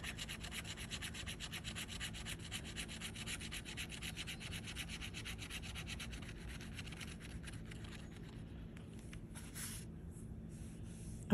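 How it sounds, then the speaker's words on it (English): Steady, soft dry rubbing of a coin or fingernail across a gold lottery scratch-off ticket, continuous and close for about ten seconds, fading slightly near the end, with no talking. "let's scratch. Are you scratching a good ticket? I'm scratching an iffy ticket."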